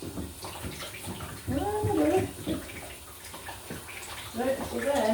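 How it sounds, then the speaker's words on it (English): Water runs from a bath tap into a bathtub, a steady splashing flow beneath a person talking intermittently throughout. "So we shall turn on the bath tap, watch the water"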